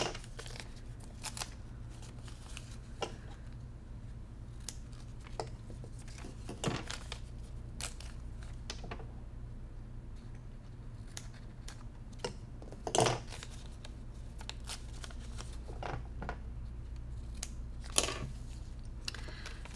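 Fabric being cut for a scrappy quilted mountain-pattern table runner, with quiet scissor snips and small handling clicks spread across the stretch over a steady low room hum, with no talking.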